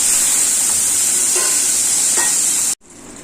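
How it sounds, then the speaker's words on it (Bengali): Bata fish fry in hot oil, four at once, with a loud continuous hissing sizzle and a few soft pops before it stops abruptly. "চারটে মাছ একসাথে ভাজি, যেহেতু মাছটা কম।"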